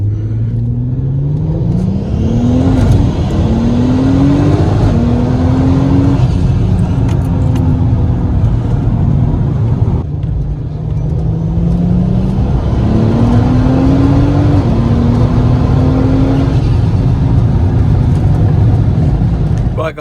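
A turbocharged MK5 Golf R32 accelerates hard through the gears in several rising pulls, each cut short by a shift, with a loud, close engine drone and the odd bit of speech underneath.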